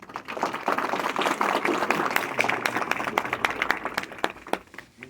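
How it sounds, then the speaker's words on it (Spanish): Audience applause at a national judicial law congress in a university law faculty hall, a dense burst of many hands clapping that stays fairly loud and steady across the whole stretch. "Un aplauso, por favor."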